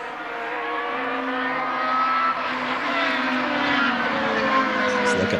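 Formula 3000 race cars at a 2002 race in Austria, engines screaming loudly and continuously as they race past, a steady high-revving roar rising slightly in intensity.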